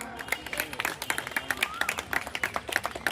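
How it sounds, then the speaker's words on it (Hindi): An outdoor audience at an International Yoga Day event claps for Shastri ji, a scattered burst of individual hand claps with some voices mixed in. "पुनः एक बार शास्त्री जी के लिए जोरदार तालियां।"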